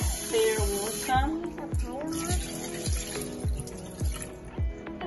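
Tap water runs steadily into a pot or bowl while rice is rinsed for Jamaican rice and peas, a close, continuous splashing with repeated soft sloshes and clinks as the grains are swirled.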